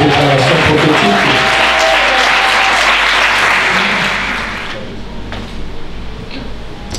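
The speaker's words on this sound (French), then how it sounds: "Est-ce que quelqu'un peut acclamer très fort pour cette déclaration prophétique?" A church congregation at a deliverance seminar cheers and applauds loudly in a roaring wash of clapping that holds strong for about four seconds, then fades to a thinner, scattered patter.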